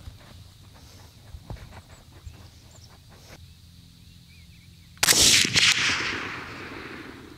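A CMMG Endeavor 300 rifle with a 20-inch barrel fires one loud 6mm ARC ELDM round at a 100-yard range, the sharp crack echoing and fading after a few seconds of quiet handling clicks.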